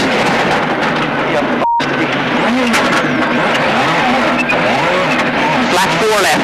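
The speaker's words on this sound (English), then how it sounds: "Eugene is struggling with the Esker Corolla, and it's not a comfortable situation" A Toyota Corolla rally car drives flat out on an Irish rally stage, its engine revving hard and shifting through gears, loud and close throughout, with a voice talking over it.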